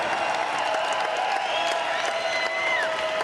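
Crowd of about 3,000 at a live MMA fight event applauds and cheers steadily throughout, a dense wash of clapping and voices heard from within the arena.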